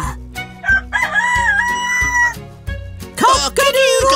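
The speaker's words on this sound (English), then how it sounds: "When roosters crow, they need to be somewhere everyone can hear them." A cartoon rooster crows several times, loud and close, over a bright musical score with voices around it, from a children's animated train series.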